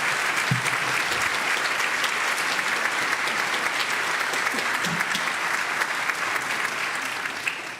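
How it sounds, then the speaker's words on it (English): Audience applause following a solo at the Arbutus Singers Christmas concert, dense sustained clapping from a full room that holds steady and tapers off slightly at the end. "Let's give Hannah a really big round of applause."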